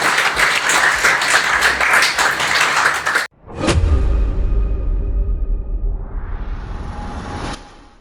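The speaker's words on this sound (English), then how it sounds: "ladies and gentlemen, a round of applause for Faldi" Crowd applause at a sporting legends honouring event lasts about three seconds and then cuts off abruptly, followed by a thump and a whooshing, rumbling background.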